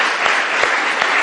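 Church congregation applauding during a sermon, a loud, steady wash of many hands clapping together with a few sharper thumps.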